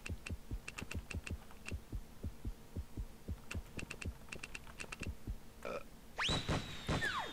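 Bursts of quick clicking keystrokes on a computer keyboard, two clusters of rapid taps separated by a pause, followed by a short whooshing game sound, no talking.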